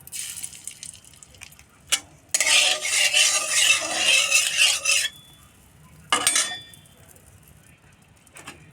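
Small puti fish frying in hot salted oil in a wok: a loud, dense crackling sizzle bursts up when the fish goes in and holds for a few seconds, then dies back, with a second short sizzle burst later and faint clatter between.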